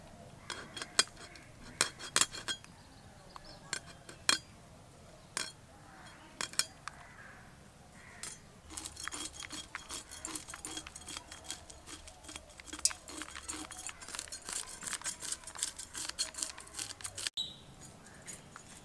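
Sharp scissor snips and clinks come up close as the sharp back fins are cut off koi fish for a recipe, with many irregular snipping clicks that get denser toward the end, and no talking.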